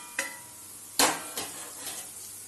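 Onions, spices and green chili frying in a pan while being stirred, a soft steady sizzle broken by a few sharp scrapes and knocks of the spoon against the pan, no talking.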